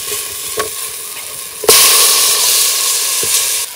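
Chicken pieces drop into a pan with oregano and culantro and burst into a loud, steady sizzle, after a few quieter crackles and taps at the start; no talk over it.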